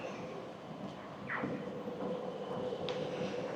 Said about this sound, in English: Trams running back and forward.